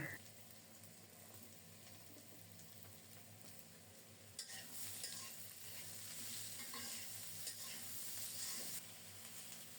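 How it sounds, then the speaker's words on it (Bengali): Potatoes and ridge gourd fry in a pan while being stirred, a continuous sizzle with scraping stir sounds that grows louder and brighter midway, with a faint voice in the background. "খুব সুন্দর মতো আলু আর ধুন্দুল ভাজা হয়ে গেছে"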